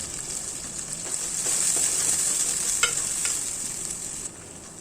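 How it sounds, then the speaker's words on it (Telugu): Thinly sliced onions sizzle steadily in hot oil with green chillies for an egg curry, a continuous close hiss with a few soft stirring scrapes and no talking. "ఈ ఉల్లిగడ్డలు కూడా కొద్దిసేపు గోలనివ్వాలి"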